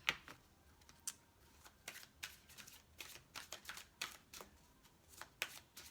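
A Flower Therapy oracle card deck is shuffled by hand, giving soft, rapid riffling flutters in irregular bursts, close and quiet, with no talking.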